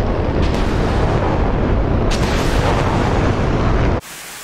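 Missiles striking and exploding in a war simulation game make a loud, dense roar of continuous rumbling blasts with a few sharper bursts, then cut off suddenly.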